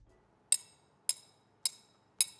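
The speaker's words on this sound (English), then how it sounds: "But depending on how you hold it or hit this triangle, it can make different sounds like this." A metal triangle struck four times at an even pace, each hit a bright, short clink with a quick decay, close and clear with quiet between strikes.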